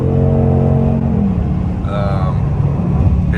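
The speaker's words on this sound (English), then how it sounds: "as soon as you give it a little bit of gas, it just downshifts for you" 2021 Ford Mustang Mach 1 in S mode accelerating and downshifting, a loud close engine rumble with rising rev tones that drop and climb again as the gear changes, with an occupant's voice partly over it.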